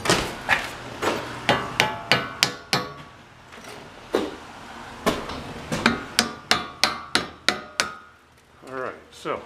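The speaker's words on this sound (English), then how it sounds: "Get my hammer." A hammer strikes repeatedly in quick, even runs of sharp blows, pausing briefly between bursts, loud and close by.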